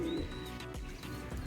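Badshah pigeons coo softly and steadily, low murmuring calls rising and falling over a short stretch, with a faint chirp or two above, close by and without talk, on a hot sunny day while the birds feed.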